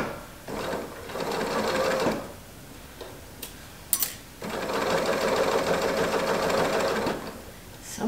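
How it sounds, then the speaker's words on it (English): A serger sewing machine cover stitching with its knife disengaged hums along in two sustained runs, a shorter one and then a longer one, with a quiet gap and a sharp tap between them. "Now I don't have my knife engaged because I'm cover stitching"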